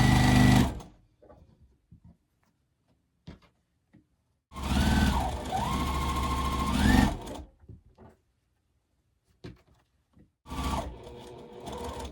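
A home sewing machine stitching rows of a pressed-flowers quilt block, running in three bursts, a short one at the start, a longer whirring run in the middle and another near the end, with quiet handling between and no speech.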